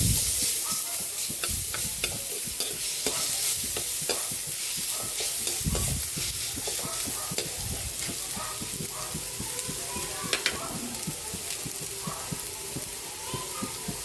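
Garlic sautés with already-cooked ginger in a pan for a Filipino chicken papaya dish, giving a steady sizzle broken by repeated scraping and clattering strokes of a spatula stirring close by, with faint speech in the background.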